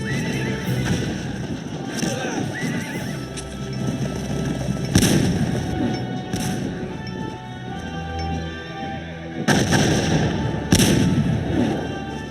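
Battle sounds from the strategy game Cossacks 2, Poland against Russia: a busy mix of horse whinnies and hoofbeats with sharp gunshot volleys and heavy thuds bursting out at intervals over a constant din.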